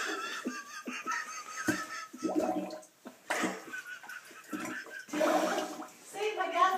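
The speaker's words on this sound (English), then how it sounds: "give it a flush, see what happens" A toilet flushes with a rushing, gurgling swirl of water, heard fairly close amid giggling and chatter from people in the room.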